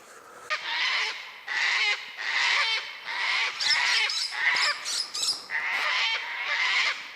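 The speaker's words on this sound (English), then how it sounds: "Some cockatoos." Cockatoos call outdoors on a cold mountain, a series of loud, harsh, drawn-out screeching squawks repeating in overlapping bursts, with no talk.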